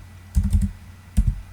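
Two quick bursts of keystrokes on a computer keyboard while drafting in AutoCAD, a short cluster of taps followed by a pause and a couple more close, crisp clicks.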